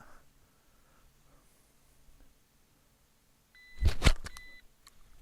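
A single sharp electronic shot timer beep sounds loudly after a few seconds of near silence during dry-fire practice, followed by brief clattering noises.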